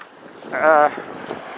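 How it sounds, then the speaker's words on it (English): Wind blows over a sailboat at sea while crossing a shipping lane into the Tees Estuary, with the yacht heeling hard. The rush is steady and broadband, rising in a brief louder gust. "It's quite windy, although it seems to maybe dropped a bit."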